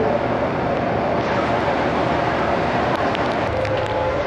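A steady, unbroken rumble and clatter fills a moving carriage of the Yangon Circular Train in Myanmar, heard from inside with no clear voices.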